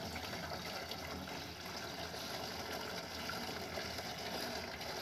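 Water flows steadily from a newly dug well, a continuous, fairly faint rushing and trickling with no pauses or voices.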